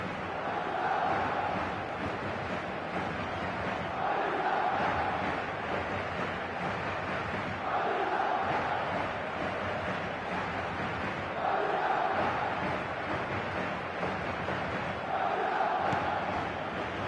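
A stadium crowd in a football video game roars and chants, swelling in regular waves every few seconds over a continuous background din, with no clear talk on top.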